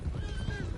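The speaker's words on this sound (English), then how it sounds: "One of the stallions is loose." A stallion whinnies in the Red Dead Redemption 2 video game, a drawn-out neigh with a wavering pitch, heard close over hoof clatter and outdoor ambience.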